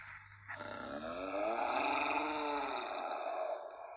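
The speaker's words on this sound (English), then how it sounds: "the roar grew louder and louder" A lion roars in an audiobook of The Lion, the Witch and the Wardrobe: one long, deep roar that swells louder and holds for several seconds before easing off, heard alone.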